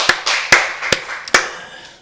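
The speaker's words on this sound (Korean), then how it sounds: "우리 박수를 하나님께 영광 드리겠습니다" Scattered hand claps from a church congregation during a Wednesday worship service, a handful of sharp, separate claps with reverberant tails echoing in the room.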